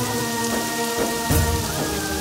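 Steady heavy rain pours over a village and is broken by a low rumble of thunder partway through. The downpour is loud, continuous and close, with no talking.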